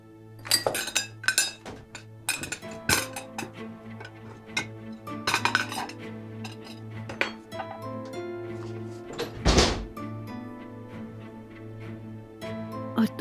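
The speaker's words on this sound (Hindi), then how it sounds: "पहले बर्तन धोना, उसके बाद कॉफी बनाना" Dishes, glasses and cutlery clink and clatter while being washed in a home kitchen, with bursts of clattering and a louder splash of running water midway, over a steady low hum.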